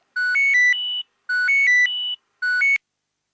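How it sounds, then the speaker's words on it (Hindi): A phone rings with three short bursts of bright electronic warbling tones, separated by brief silences. "फोन आया, फोन आया। किसका फोन आया?"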